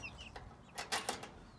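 A chicken on a farm gives a few quick clucks, brief and fairly close, over a quiet outdoor background.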